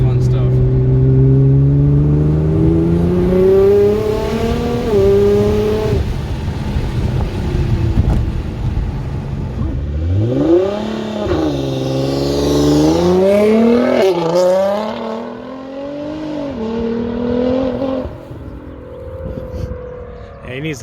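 An Alpha 9 Nissan GT-R, a high-horsepower all-wheel-drive car, pulls hard in second gear from about 30 mph, its engine revving up loud and near with rising pitch and a shift, while people talk over it inside the cabin.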